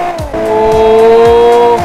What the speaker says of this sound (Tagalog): Wow! Look at that drift.